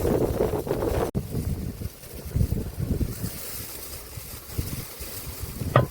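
Strong wind buffets the microphone in loud, rumbling gusts, steady and close, with no voices.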